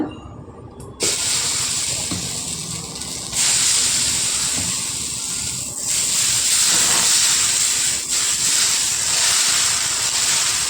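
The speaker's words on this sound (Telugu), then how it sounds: "ఇంకోటి వేసుకుందామండి దోశ" Jowar (sorghum millet) dosa batter hitting a hot pan, giving a loud, steady hiss and sizzle that swells after a brief quiet start and holds strongly throughout.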